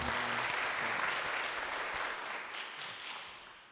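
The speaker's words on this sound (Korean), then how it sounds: "우리 목사님 다시 한번 환영하는 의미에서 크게 박수 한번 하시고" A church congregation applauds to welcome a pastor at a Sunday worship service, a steady wash of many hands clapping that fades slightly toward the end, with no talking over it.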